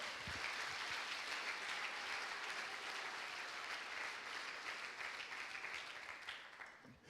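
A church congregation gives sustained applause, a dense, steady wash of many hands clapping for several seconds in a large room, fading slightly at the end.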